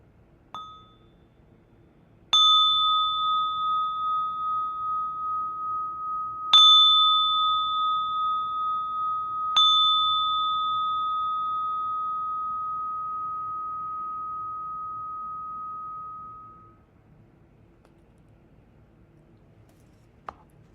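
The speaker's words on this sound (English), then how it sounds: "we'll enjoy the sound of a bell to finish this practice" A mindfulness bell is struck three times at the close of a meditation practice, each clear ringing tone sustaining and overlapping the last before a long fade into quiet.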